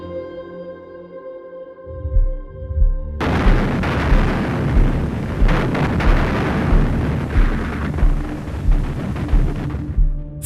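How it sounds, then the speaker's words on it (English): Soviet artillery fire thunders through WWII Berlin battle footage, a continuous loud barrage of deep booms and rumbling blasts that erupts after a quieter hum and keeps pounding in irregular bursts. "the deafening roar of Soviet gunfire can be heard"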